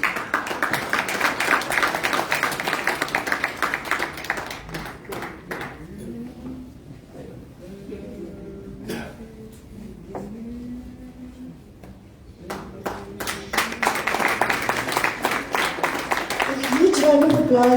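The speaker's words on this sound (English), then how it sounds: "A huge round of applause to Mrs. Deshni Reddy." An awards-function audience applauds Mrs. Deshni Reddy, with clapping that opens strongly, drops away while a voice talks over it, then swells again into a fuller round at the end.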